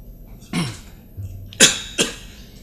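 Three coughs during a stage monologue performance, close by with no talking: one rough cough, a pause, then two sharper coughs in quick succession.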